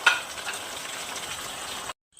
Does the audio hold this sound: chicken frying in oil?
yes